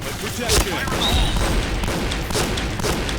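A shotgun fires in the video game Point Blank, with a few sharp booming shots spaced apart over dense in-game noise while a person talks.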